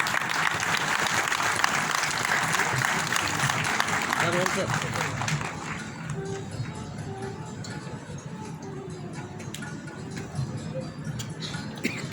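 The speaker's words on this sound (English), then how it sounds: "Can we have a big round of applause?" Steady applause from the audience at a national medical conference, dense and continuous for the whole stretch, with a few voices and murmurs mixed in underneath.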